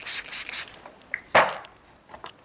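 Hair scissors snipping through a woman's hair during a short leaf-cut haircut, cutting at a 90-degree angle: a few close, crisp crunching snips and soft rubbing of strands, with short quiet gaps between.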